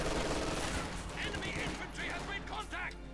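MG-42 machine gun fire in the real-time strategy game Company of Heroes 2, dense overlapping bursts of gunfire that continue throughout, with someone talking over the shooting.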